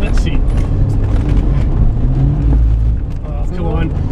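A turbocharged Suzuki Cappuccino kei car revs hard with its open differential spinning one wheel, a loud, continuous engine drone with tyre noise, while people talk over it.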